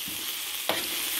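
Pepper steak cooking in an electric skillet gives a steady broadband sizzle throughout, with one brief louder clatter or stir near the middle.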